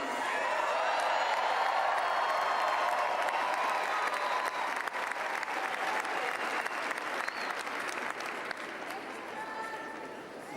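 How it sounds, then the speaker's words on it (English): A large crowd at an inauguration event breaks into sustained applause and cheering, a dense wash of clapping that stays loud throughout and tapers slightly toward the end. "crowd goes wild"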